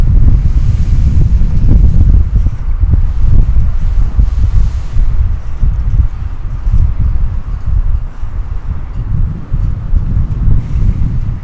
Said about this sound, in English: Big gust of wind. Blowing everything.